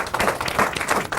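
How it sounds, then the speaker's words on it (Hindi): An audience claps continuously at a bravery awards event, a dense, loud patter of many hands filling the short moment without pause. "तालियां।"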